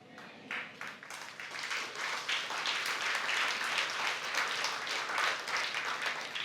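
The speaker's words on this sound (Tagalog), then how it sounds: "May mga pumalakpak kasi." A church congregation claps during a sermon, a dense, steady burst of applause that builds quickly and carries on at an even level throughout.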